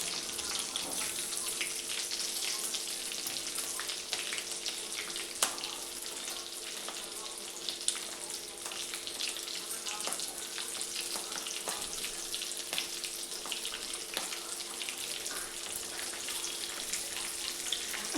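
Stuffed green chillies frying in oil with asafoetida in a pan over a low flame, making a continuous close sizzle with faint occasional clicks and no speech.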